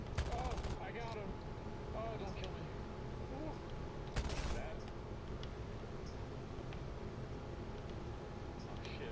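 Aircraft guns fire in War Thunder in two short rattling bursts, one at the start and one midway, over a constant engine drone, with a voice talking at times.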